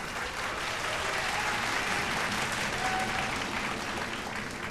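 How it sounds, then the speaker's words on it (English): Sustained applause from a large audience at a televised vocal competition show, a dense, steady roar of clapping filling the whole stretch without pause. "A round of applause, PNG Air."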